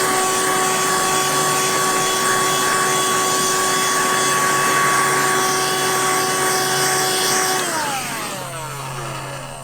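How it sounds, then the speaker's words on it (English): A handheld Dust Buster vacuum whines steadily and loudly at close range while clearing catkins off moss, its motor pitch falling away as it winds down near the end. "if you want to go high tech, you can also use your dust buster."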